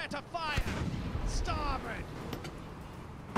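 Ship cannons fire in the naval video game Blackwake, several rough booming bursts spread across a few seconds, fairly faint, with players talking in between.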